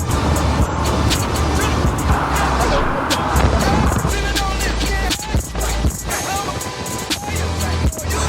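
On a quiet back road, a truck passes close by. Loud road and engine noise swells and then fades, with people talking excitedly over it.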